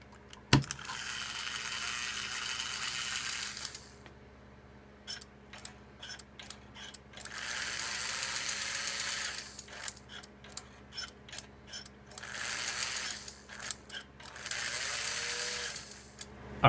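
An American Flyer 300 AC model train locomotive runs on the bench in repeated bursts, a busy whirring and clattering of small gears and mechanism, each stretch lasting a few seconds with quiet gaps and scattered clicks between.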